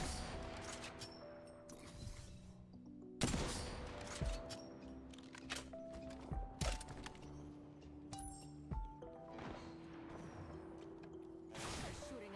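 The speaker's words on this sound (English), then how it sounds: "They're shooting at me." Gunfire from the Apex Legends battle royale game, with bursts of automatic weapon shots and sharp cracks repeating through a busy, loud firefight, some blasts sounding near and others more distant, mixed with whooshing effects.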